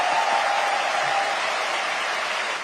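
A large church congregation applauding continuously, a dense, steady roar of clapping that fades slightly toward the end.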